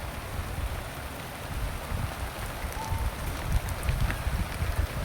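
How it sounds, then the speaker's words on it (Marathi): Steady unseasonal summer rain pours down in Nashik with a dense, even patter and a low rumbling wash, continuous and fairly close, with no voices. "उन्हाळ्याच्या टायमिंगला पाऊस येतोय"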